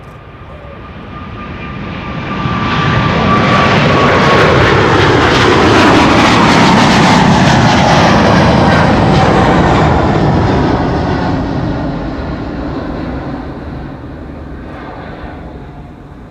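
Airliner PH-BVA taking off from Schiphol runway 24 (Kaagbaan), bound for Lima: a loud jet roar rising over the first seconds, holding strong, then slowly fading as the aircraft climbs away.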